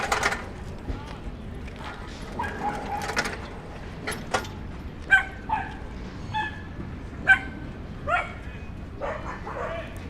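Small dogs barking at a city dog run in the East Village, with sharp, high yips and barks scattered irregularly through the clip against outdoor street noise, while a person speaks at times.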